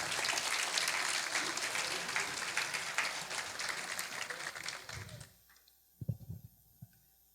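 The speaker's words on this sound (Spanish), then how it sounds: "Si va a aplaudirlo, hágalo fuerte." A church congregation applauds during a sermon with steady, dense clapping that holds for several seconds and then quickly dies away, leaving a few faint thumps and near silence.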